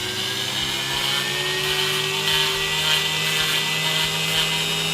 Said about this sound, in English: I've got a little sanding drum on there